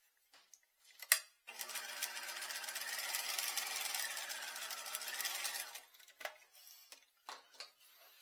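A sewing machine stay-stitches the edge of a patch pocket in one steady, close run of rapid stitching lasting about four seconds, with light fabric handling and clicks before and after.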